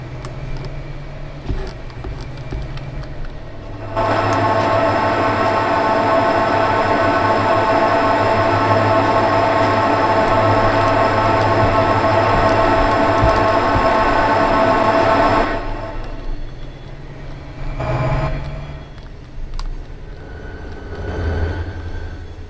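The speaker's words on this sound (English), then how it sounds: "There's the other train." A train rolls past close by at a busy rail spot, its loud, steady rumble and rail clatter building suddenly and holding for about twelve seconds before dropping back to quieter background noise.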